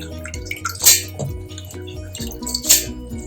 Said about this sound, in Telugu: ఇప్పుడు ఈ బియ్యాన్ని ఇందులోకి తీసుకోవాలి మిక్సీ జార్లోకి